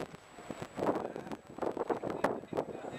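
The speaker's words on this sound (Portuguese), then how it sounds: "E aí tem vento." Wind buffets an outdoor microphone in gusty bursts, a soft rumbling rush rising and falling under faint background voices.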